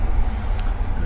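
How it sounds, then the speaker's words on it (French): Car traffic outside an open window on a 35-degree day gives a steady, loud low rumble of passing road vehicles, with a brief hiss partway through and no talk. "La voiture est déjà insupportable."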